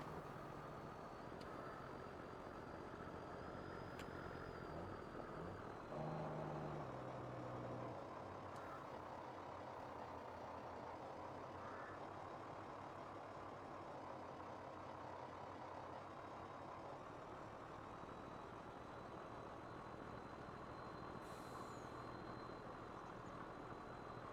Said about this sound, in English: She does make a lot different noises than the previous truck.